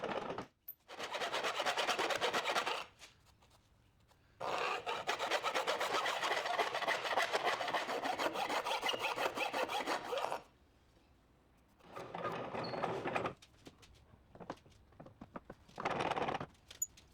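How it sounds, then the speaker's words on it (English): Hand file rasping back and forth in square bores of small brass hardware for a ship's wheel, in several bursts of steady rhythmic strokes separated by short pauses, close and fairly loud. "I cut the square bores undersized, so I'll file them down and tidy them up."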